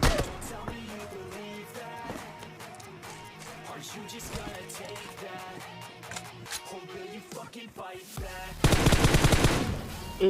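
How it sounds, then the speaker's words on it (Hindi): Gunfire rattles through a battle royale video game match, with repeated rapid bursts of automatic shots. A loud, dense volley comes near the end over busy game noise. "मुझे यहाँ पर एक सी बिल्डिंग से फायरिंग स्टार्ट करने लगी"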